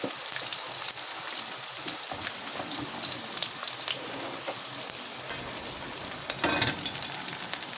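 Marinated tuna fries in a pan with a continuous, crackling sizzle of fairly even loudness and a brief louder flare near the end, with no voices.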